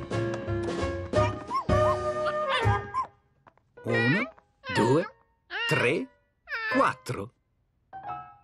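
Young puppies let out a run of short, high yips and barks in separate bursts, several near, loud calls with brief pauses between them, after a few seconds of music and a voice at the start.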